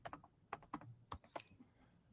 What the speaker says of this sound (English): I'm just typing here.